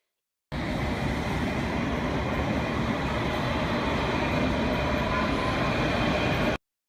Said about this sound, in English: T is for train, chugging on by.